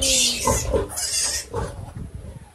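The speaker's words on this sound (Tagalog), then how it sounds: "nililipat ni Kelito yung mga baboy" Native pigs being moved on a farm where a sow has just farrowed a large litter, with grunting and squealing close by and some clattering handling noises.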